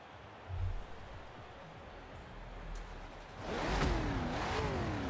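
Car engine revving in the racing game Forza Horizon 4, a quiet idle rising into a louder rev with sweeping pitch after a few seconds, no talk over it.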